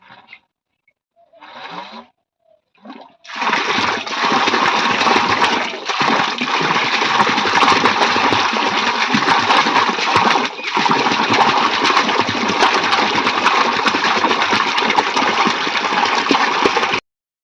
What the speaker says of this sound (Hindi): आप लोग पानी देख ली कितना पानी दे रहा है, काफ़ी तेज़ देता है